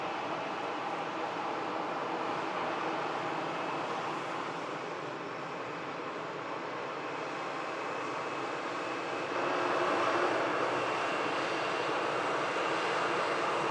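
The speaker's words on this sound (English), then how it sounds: "Got an aircraft on short." A plane comes in on short final at Manchester Airport, a steady far-off engine roar that holds for several seconds and then swells slightly louder as it draws closer.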